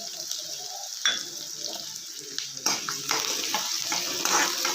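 Onions, chana dal and urad dal frying in oil, a steady bubbling hiss with occasional crackles and stirring scrapes, close and continuous with no voices.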